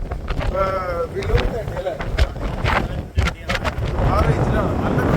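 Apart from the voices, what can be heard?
strong wind at Duqm, Oman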